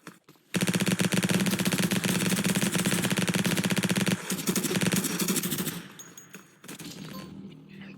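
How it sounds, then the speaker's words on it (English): Rapid-fire gun in the Roblox game Flag Wars lets off a long, continuous burst of fast automatic shots, loud and close, then a short break, a second burst, and a softer tail of fire at the end. "This gun deals 9 damage, and with no headshot bonus, this may seem like a gun to avoid, but it fires so fast"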